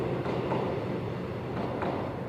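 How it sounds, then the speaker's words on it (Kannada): An Indian Railways train passes close by near paddy fields, a steady loud rumble of wheels and carriages rolling without a break throughout, with no one speaking. "ಹೋಲ್ಡ್ ನಿಲ್ಲು ಟ್ರೈನು ನಿಲ್ಲು"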